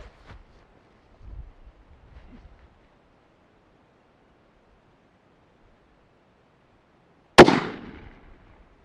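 A single sharp, loud report from a 6.5 PRC rifle fired outdoors at a steel target, with a brief decaying echo after long near-silence and a few faint soft sounds before it.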